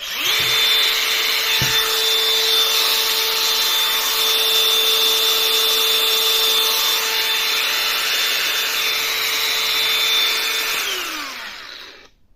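A DeWalt DCG405 cordless angle grinder spins up and runs unloaded at a steady, loud high-pitched whine for about ten seconds, then winds down near the end, with no one talking.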